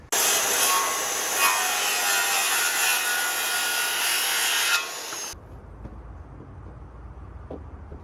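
Hand saw cutting through a warped pressure-treated wood floor joist board, a loud, steady rasping stroke sound for about five seconds that stops abruptly, leaving quiet background.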